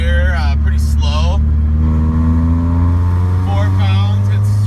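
A supercharged E30 BMW's engine drones loudly from inside the cabin as it pulls steadily under load in third gear, with someone talking over the engine noise.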